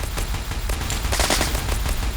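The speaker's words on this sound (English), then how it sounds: "satisfying gunshot sounds" Rapid gunfire from the sci-fi shooter Project Xandata, with dense, overlapping shots forming a continuous loud burst of fire throughout, with no talking over it.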